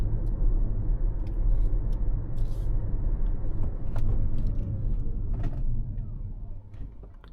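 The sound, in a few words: Hyundai Creta Electric SUV accelerating to 70 and braking hard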